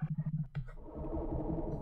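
A Scratch boom sound effect played slowed down, giving a deep, drawn-out low rumble with a stuttering start that settles into a sustained, moderately loud drone with no talk.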